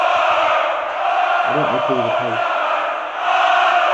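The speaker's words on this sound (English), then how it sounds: "The German crowd have only got a lot more friendly in the last few minutes, haven't they? Just sing a little song between themselves." A German crowd at a European Tour darts championship sings together in a loud, steady mass of voices filling the arena, while a commentator briefly talks over it.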